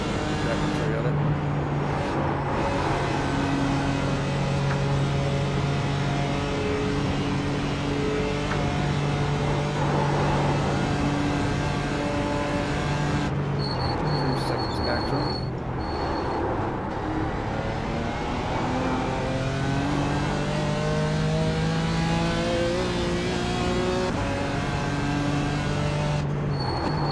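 Race car engines droning steadily through a long iRacing endurance run at the Nürburgring Nordschleife, a continuous loud engine tone with shifting pitch as cars pass, under frequent voices talking over it.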